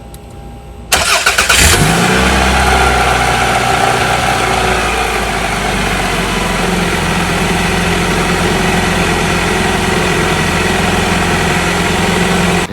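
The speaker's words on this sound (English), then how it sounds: "then run engine for 10 minutes" A car engine, just fitted with a new exhaust flex pipe, cranks and catches after a moment of quiet, then settles into a steady, loud idle close by.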